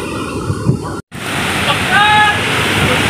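Steady roar of ocean surf crashing nearby on Guimaras Island, Philippines, with a brief dropout and faint voices over the churning water.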